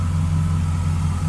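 A 1939 Buick coupe street rod with a 5.3 LS1 V8 idles close by, a steady, smooth low rumble holding even throughout with no voices.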